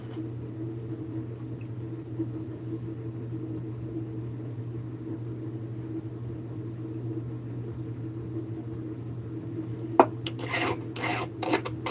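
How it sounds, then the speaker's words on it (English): Metal kit parts being deburred with a file, heard as a short burst of rough rasping strokes near the end over a steady low background hum. "Doing a pretty good job here of deburring things"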